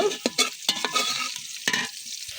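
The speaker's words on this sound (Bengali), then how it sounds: "পেঁয়াজটা ভালো করে ভেজে নেব" Onions frying in a pan for a duck curry, a close, crackling sizzle with several quick stirring scrapes in a short burst.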